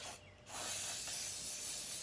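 Aerosol spray paint hisses steadily onto bathroom medicine cabinet parts laid on an old cabinet, with a brief pause near the start before a long, continuous close spray.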